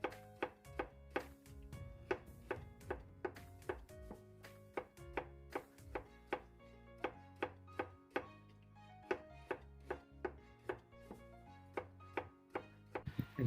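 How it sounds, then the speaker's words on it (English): A chef's knife chopping tofu into thousands of fine strands, a fast steady run of crisp taps against a cutting board, close and clear with no talk over it. "But what makes it extraordinary is the chopping."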